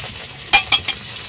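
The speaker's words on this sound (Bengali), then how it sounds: "গোলমরিচের গুঁড়ো দিয়ে আমি নাড়িয়ে নেব" A spoon stirring ground spices such as black pepper and chaat masala in a frying pan, two or three sharp scraping strokes over a faint steady sizzle.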